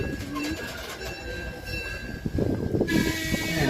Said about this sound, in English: please remain seated until you hear the train whistle